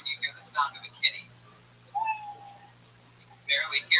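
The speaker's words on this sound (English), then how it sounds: "At the end of the minute, you know your minute's up when you hear the sound of a kitty." Tiny kitten meowing in short, thin high-pitched cries, several quick mews at the start and again at the end, with a faint tone in between.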